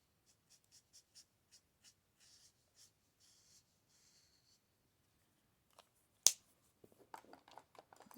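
Brush-nib pen colouring larger areas on paper, with a series of faint soft strokes at close range, then a sharp click and some rustling near the end.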